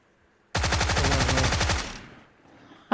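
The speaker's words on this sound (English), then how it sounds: "somebody else shooting at me now" Rapid machine-gun fire in a video game, a loud sustained burst of evenly spaced shots lasting about a second and a half before trailing off, with a sharp single report at the end.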